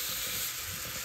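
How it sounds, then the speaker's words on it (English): Meat for pepper steak sizzling in a pan over a wood fire, an even, close hiss of frying that stays steady throughout the short stretch. "Throw the meat in here first."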